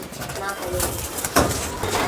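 Pigeons coo softly in a loft among a flock of highflying birds, a low continuous murmur that sits beneath close, steady conversation between two people.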